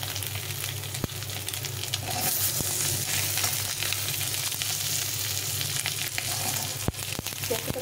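Duck eggs fry in oil in a kadai with a steady, dense, close sizzle and crackle, broken by a few sharp clicks of a utensil.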